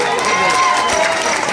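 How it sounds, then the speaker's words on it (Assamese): Crowd clapping and cheering at a live Bihu stage program in Assam, a brief broad wash of audience applause with a voice faintly over it. "সেই সাহসৰ কাৰণে সকলোকে এটা হাত চাপৰি দিব অনুৰোধ"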